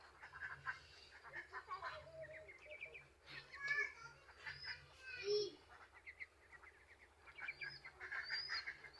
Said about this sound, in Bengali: আমি একটা ভিডিও পাঠাইতেছি চীন হাঁসের বাচ্চার।